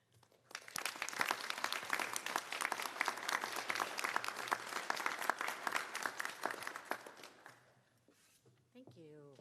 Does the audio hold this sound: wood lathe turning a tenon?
no